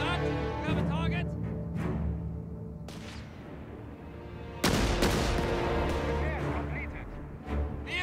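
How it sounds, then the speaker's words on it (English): Gunfire and heavy weapon blasts during an attack in the World War II strategy game Company of Heroes 3, North Africa campaign; dense battle noise with sharp loud bursts, a big impact near the middle, and game voices over it. "We're under fire."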